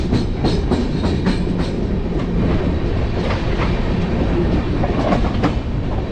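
A long-distance passenger train from Bangalore to New Delhi runs on the rails while changing tracks, giving a loud, steady rumble with rhythmic clickety-clack from the wheels.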